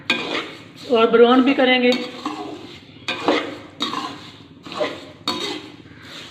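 A spoon clinks and scrapes in a pan as sugar melts for makhandi halwa, a steady run of near, distinct metallic stirring strokes, with a voice talking briefly over it.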